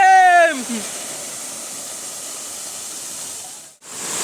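A waterfall pours during heavy monsoon rain, a steady roaring hiss close by, after a brief voice at the start.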